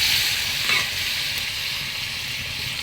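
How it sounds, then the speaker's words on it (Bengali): Beef being stirred into frying spices while cooking with ash gourd in a rural setting, making a dense, even sizzle with a faint scrape early on, close and continuous, with no voices. "মাংসগুলো দিয়ে ভালোভাবে নাড়াচাড়া করে"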